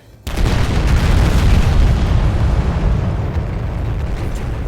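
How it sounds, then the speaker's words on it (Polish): An old drug lab blows up in the video game Battlefield Hardline: a sudden, very loud explosion bursts in and keeps roaring with a deep, sustained rumble and crackling debris that slowly eases off. "Wybuchła stara wytwórnia Amfy"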